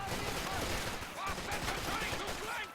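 Machine gun fire in a strategy video game, a dense fusillade of rapid shots that holds steady throughout, fairly faint and blended with other battle noise.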